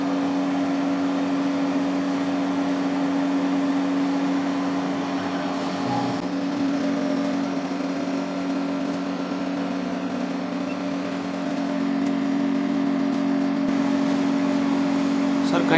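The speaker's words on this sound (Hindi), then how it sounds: "अब मैं आपको एक iPhone X Max का बैक काट के दिखा रहा हूँ।" A 55W CO2 laser cutting machine cuts the back of an iPhone X Max, giving a steady mechanical hum with a constant tonal whine throughout, and a brief louder shift near the middle.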